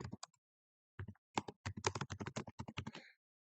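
Someone types on a computer keyboard in a quick burst of keystrokes. A few isolated taps come first, then a short pause, then a dense, fast run of close, crisp clicks that stops abruptly.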